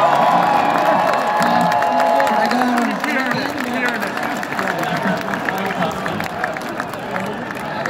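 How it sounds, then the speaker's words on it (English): A concert crowd at a show cheers, whoops and applauds in a loud, dense roar, with shouting voices rising over the clapping and some nearby talk throughout. "big round of applause for yourselves"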